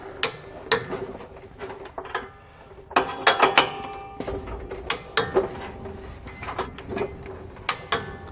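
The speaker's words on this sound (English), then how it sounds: "Now we can go ahead and torque down our hardware." Nuts on the rear anti-sway bar of a 2009 Workhorse W-Series motorhome are tightened and torqued down, giving bursts of close mechanical ratcheting clicks in uneven groups, with short pauses between runs.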